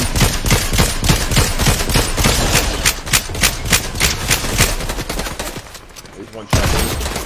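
Bursts of rapid automatic gunfire in a shooter video game, dense crackling volleys that thin out near the end before one sharp loud report.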